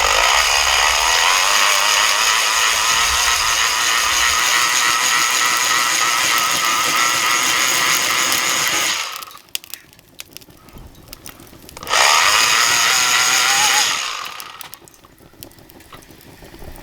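A cheap hand-cranked BBQ blower from Temu whirs with a loud, steady rushing hum for about nine seconds. It falls quiet, spins up again for a couple of seconds, then fades.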